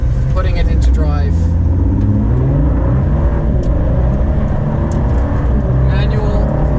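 A McLaren Senna with a manual gearbox pulls away after being put into drive, a steady loud engine rumble with rising rev tones throughout and talk over it.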